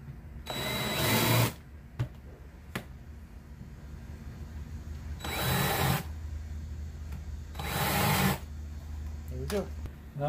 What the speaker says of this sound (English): I'm going to use this little countersink bit there so my screw will be level with the wood.